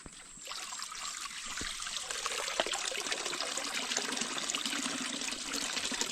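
Clean spring water trickles steadily from a natural spring, a continuous bright splashing dribble heard close up and fairly soft, with no talking.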